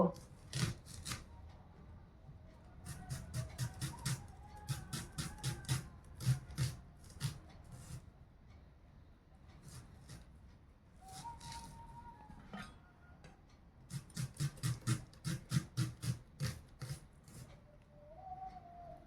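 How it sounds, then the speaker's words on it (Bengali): Onions being chopped on a board, bursts of quick rhythmic knife taps in several runs separated by pauses, with birds calling faintly in the background. "পেঁয়াজ আগে থেকে ছাড়িয়ে নিয়েছি এবার কুচিয়ে নেব"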